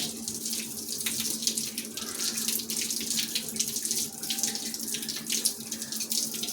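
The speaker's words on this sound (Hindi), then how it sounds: "अब आपको हाथ धो देने हैं।" A running tap pours steadily as hands are rinsed beneath it at a sink, a close, even rush of water splashing over skin with no voices.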